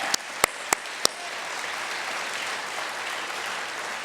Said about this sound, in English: I want to just give another round of applause to our videographer and our whole support staff for making that happen.